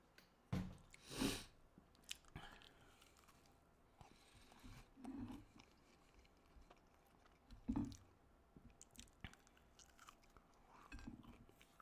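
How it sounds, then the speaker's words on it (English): Faint close chewing of a Hot Pocket and spicy chicken fries, with a few louder crunchy bites standing out over a low, steady background. "I'm also eating some really spicy Chicken fries, too."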